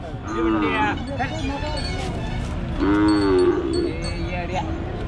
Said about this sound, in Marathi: मामाचा बैल